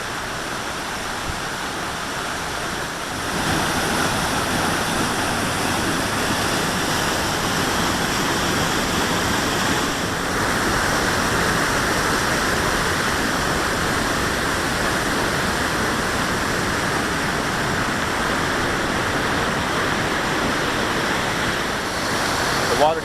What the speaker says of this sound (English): And just like that, we are at Wapama Falls.